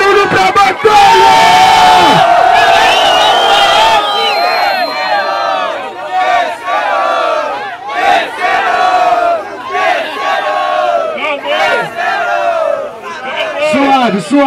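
A loud crowd at a Brazilian rap battle final roars, cheers and yells in sustained waves, with chanting voices and whoops throughout.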